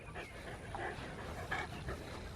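A dog rolls around on the ground while panting in quick, soft breaths close by, with faint whimpery sounds against low background noise.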